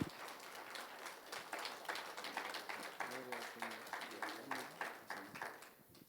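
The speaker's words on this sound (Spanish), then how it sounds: "¿Qué le parece si le damos un fuerte aplauso al Señor Jesucristo?" A church congregation claps together in steady rhythmic applause that fills the room, with voices faintly mixed in under the clapping.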